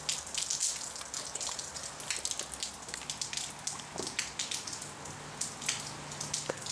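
Rain falls with an irregular patter of drops striking surfaces close by, and the spattering rises and falls steadily throughout with no one talking.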